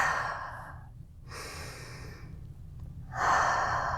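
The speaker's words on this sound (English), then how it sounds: "Deep breath." A person takes a deep breath: a long inhale, a pause, then another slow exhale, close and alone.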